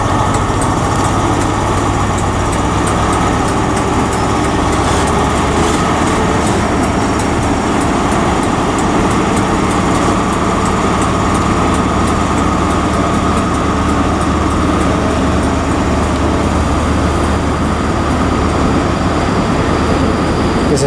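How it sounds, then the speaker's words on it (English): An LNER service departing Edinburgh Waverley station on the East Coast Main Line, a steady engine drone with rail rumble heard up close and unbroken for about twenty seconds. "departing now is the 1429's LNER service from London King's Cross to Aberdeen"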